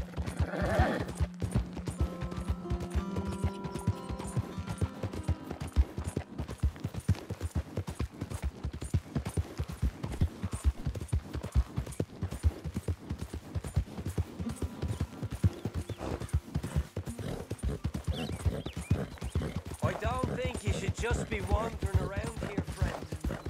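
Horse hooves clip-clopping at a steady walking rhythm in the open-world Western video game Red Dead Redemption 2, with occasional whinnies and game ambience, continuing throughout under someone talking.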